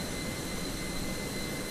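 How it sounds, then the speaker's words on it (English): Airliner jet engines run steadily in Microsoft Flight Simulator 2020, a constant broadband roar with a faint high whine, even and unbroken throughout with no voices. "only both my engines are started"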